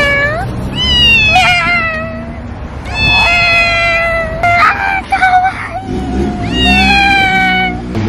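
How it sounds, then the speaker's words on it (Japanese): A cat meows loudly and repeatedly in long, wavering, insistent cries close by, with low background hubbub of a street in the Kuzguncuk neighborhood on the Asian side of Istanbul. "お前ほど泣く猫は初だよ"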